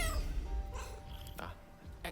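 A few faint, short cat meows in Baldur's Gate 3 sound over quiet background ambience, with no one talking.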